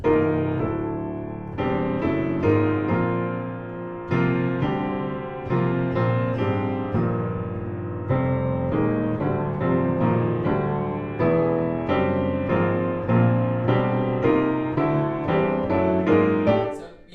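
Close solo piano plays a steady sequence of rich chords built on octaves with open fourths and fifths, each struck firmly and left ringing.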